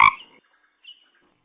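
A single short frog croak used as a sound effect in a children's read-aloud story, sharp and close at the start, then a faint second chirp a moment later.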